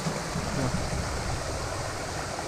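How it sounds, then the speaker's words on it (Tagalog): A river stream flowing steadily, a constant broadband rush of water close by and fairly loud, with no talking over it. "So, nandito tayo sa ilog."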